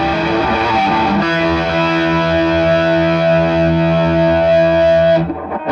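Sustained electric guitar chord through a Way Huge Penny Saver Royale chorus and drive pedal, distorted and shimmering with chorus, ringing steadily for several seconds before cutting off.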